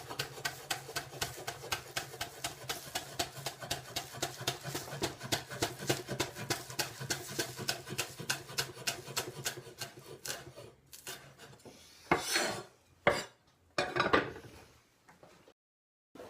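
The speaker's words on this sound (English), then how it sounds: "just get yourself a nice big knife and just chop these chives up into nice small pieces" A big knife chops chives on a board in a fast, even rhythm of quiet strokes, then ends with a few scattered, heavier cuts.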